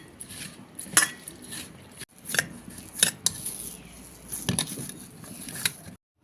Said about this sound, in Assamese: এতিয়া দেখিছে এয়া ধুনীয়াকৈ মঠি লওঁ